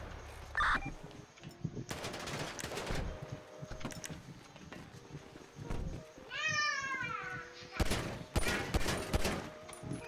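Gunfire in a GTA roleplay game as shots are aimed at a vehicle's tires, several loud bursts of rapid shots separated by gaps, with a brief whining tone and other game sounds between.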